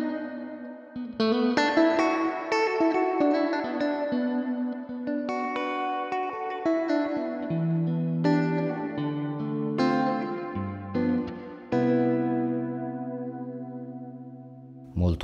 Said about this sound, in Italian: sentiamo anche con un po' di riverbero